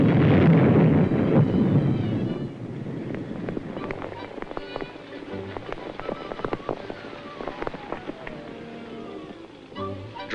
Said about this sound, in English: dynamite charges in place clear across the stream